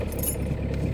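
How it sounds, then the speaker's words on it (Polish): A car ignition key is turned during a battery voltage test, a brief close jingle of keys on a ring over a low, steady background hum. "W tej chwili przekręciłem kluczyk,"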